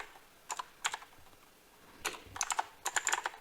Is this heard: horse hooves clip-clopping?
no